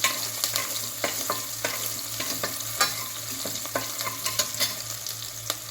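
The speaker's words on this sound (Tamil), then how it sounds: "கொஞ்ச நேரம் ஆயிலே வெங்காயம் வதங்கி வரட்டும்." Onions and curry leaves frying in hot oil for a country chicken curry, a steady close sizzle broken by repeated stirring scrapes and taps of a spoon against the pan.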